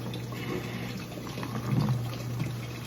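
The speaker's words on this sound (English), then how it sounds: "the hose is running into here, and that's what's creating that water. This water is coming from this basin." Water runs from a hose into a basin as a steady, close trickle and splash. A constant low hum sits beneath it.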